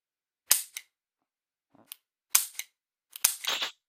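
Sharp dry-fire clicks from a G-Sight LaserHit laser training pistol aimed at a wall socket, four distinct snaps spread over a few seconds with brief mechanical after-rattles, close and crisp in a quiet room.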